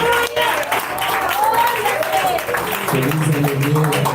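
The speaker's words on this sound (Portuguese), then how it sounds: "aplaude a Deus." A Pentecostal church congregation claps and cheers together while a voice carries over the top, the steady applause blending with loud, reverberant talk in the hall.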